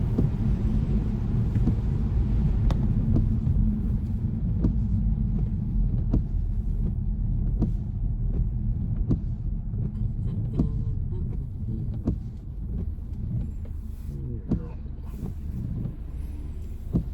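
A car drives through traffic on the M25 motorway, giving a steady low road rumble with faint wind buffeting and brief ticks throughout, no voices.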